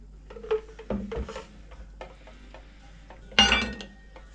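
Butter and flour being stirred by hand into puff pastry dough, giving scattered soft scraping and knocking taps against the bowl with a louder clatter near the end.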